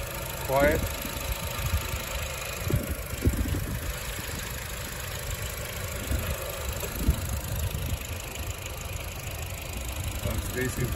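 A 2022 Honda HR-V EX engine idles with a low, steady rumble under the open hood, with people talking quietly over it.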